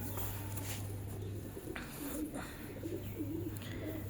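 A pigeon coos softly and repeatedly at close range, low throaty rolls over a steady background hum, with faint rustling in between.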